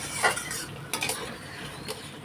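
Pointed gourd (potol) frying in a pan on a gas stove, a steady soft sizzle broken by a few scraping stirs of a spatula, close and fairly quiet.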